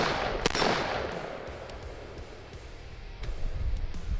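Gunshots fired at shooting targets while testing a budget optic outdoors, a sharp report early on followed by quieter cracks and rustling background noise.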